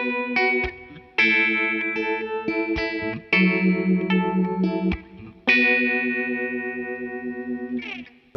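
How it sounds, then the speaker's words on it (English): Electric guitar through a phaser pedal with every setting turned up, playing sustained chords in several strummed phrases with a sweeping, swirling tone that fades at the end. "And now over to the phaser pedal."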